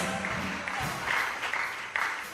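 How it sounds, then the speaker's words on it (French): An audience at a church ministry's tenth anniversary celebration applauds the hostesses, giving fairly soft, steady clapping throughout the short stretch with a faint murmur of voices. "Put your hands together for the hôtesse."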